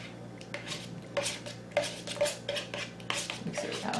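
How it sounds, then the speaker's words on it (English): A teaspoon clinks and scrapes against a bowl while macaroni salad is stirred together with full-fat yogurt, in repeated irregular bursts of close clatter with no one speaking. "we just kind of mix it all together. I can just go ahead and use the teaspoon"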